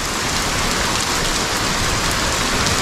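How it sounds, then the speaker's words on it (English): Heavy Florida rain pouring down steadily, a dense, loud, unbroken hiss of drops on surfaces with no voices. "Told you it was gonna rain. When it rains here in Florida,"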